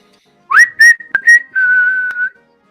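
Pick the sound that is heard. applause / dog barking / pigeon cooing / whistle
whistle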